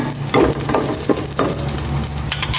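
Garlic sautés in cooking oil in a pan, a continuous close sizzle broken by a few scraping stirs of a utensil.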